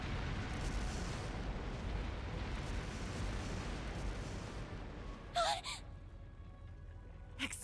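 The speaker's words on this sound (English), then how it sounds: "Explosive artifacts!" Explosions from explosive artifacts set off as a fireworks show inside a palace in a Trails Through Daybreak game scene, a sustained rumbling roar followed by a sharp burst and fading pops.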